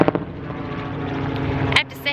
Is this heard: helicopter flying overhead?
yes